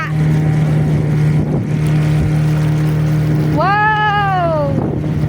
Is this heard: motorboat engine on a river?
yes